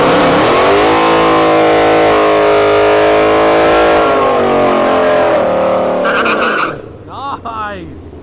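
A GT5 race car on a test run roars loudly as its engine climbs through the revs, tone rising in long sweeps, then backs off and fades near the end with faint tire noise.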